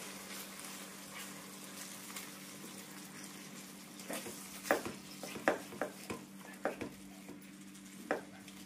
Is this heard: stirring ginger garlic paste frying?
yes